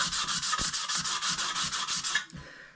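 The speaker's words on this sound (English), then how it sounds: "Get some fine sanding paper and then the edges of your trowel, give it a sand." Steady, rhythmic scraping of fine sandpaper over a plastering trowel's metal edge, repeated back-and-forth strokes at close range, stopping near the end.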